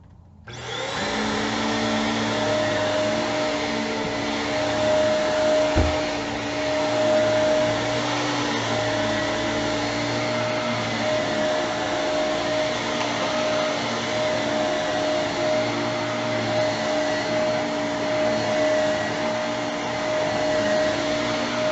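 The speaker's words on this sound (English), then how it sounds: "I just want to demonstrate the noise of the vacuum." A Shark Navigator vacuum cleaner runs steadily and loudly for about twenty seconds, a constant whooshing motor roar with a high whine, starting up at the beginning with no talking.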